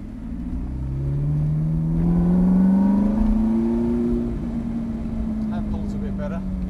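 A car accelerates hard at a track day at North Weald Aerodrome, its loud, close engine note climbing steadily in pitch for several seconds before easing off, with faint voices in the background.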